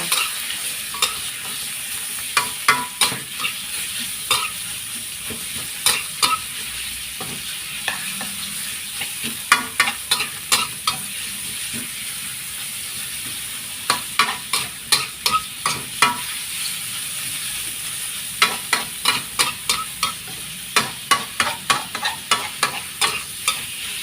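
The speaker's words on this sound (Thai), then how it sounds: "ผัดหมูให้สุกก่อนเลยจ้า" Pork belly is stir-fried in a pan with chili and garlic, giving a steady sizzle broken by repeated sharp scraping clicks of a spatula against the pan, coming in quick bursts up close.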